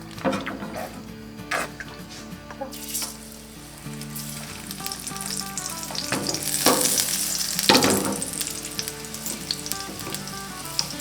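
Steady crackling sizzle of sweet potatoes frying in plenty of hot oil, close and continuous, with occasional clinks and a voice speaking over it.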